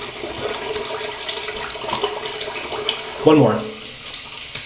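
Splashing tap water rinses shaving soap from a face, a steady running stream with a louder burst of splashing near the end; a few words are spoken.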